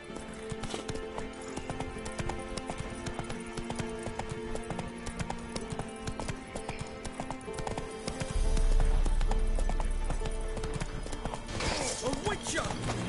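Roach the horse in The Witcher 3, hooves clip-clopping in a steady galloping rhythm, close and clear, with a brief snort or neigh and background game sounds and voices.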